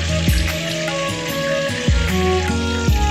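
Pangas fish fries in oil and is lifted out with a spoon, giving a loud, continuous close sizzle with a few clanks of the utensil against the pan.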